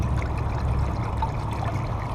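Distilled water pours into the coolant system of a 2006 Chevrolet Impala during a water pump replacement, a soft continuous trickle and gurgle under faint low background hum.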